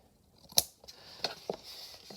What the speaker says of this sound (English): let me get my pinking shears out and just trim this a little bit